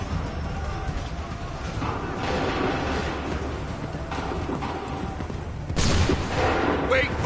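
Musket volley gunfire in the video game Assassin's Creed 3, heard as a dense rumbling battle din with a sharper crack of shots near the end.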